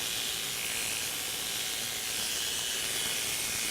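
Coolant sprays onto hair clippers during surgical prep clipping, a steady, close hiss that runs without a break and without voices.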